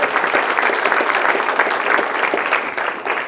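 A town hall audience at a political event in Calgary breaks into a big round of applause, dense steady clapping filling the room for a few seconds with no voices over it.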